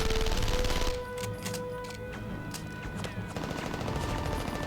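Rapid bursts of SMG fire in the video game Mercenaries: Playground of Destruction, loud and sustained with dense repeated shots and a gritty game mix behind them.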